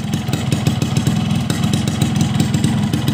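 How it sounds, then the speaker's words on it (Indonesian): A cold, just-started Fuchs Titan Twin two-stroke motorcycle engine idles steadily up close, a rapid uneven putter with a rattly, buzzy edge, running alone without any talking. "Ini mesin baru banget nyala"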